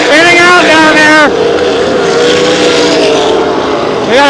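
Race cars roaring at Knoxville Raceway as one car spins out, loud engine whines rising and falling in pitch for over a second, then a steady dense wall of engine noise, with another whining pass near the end.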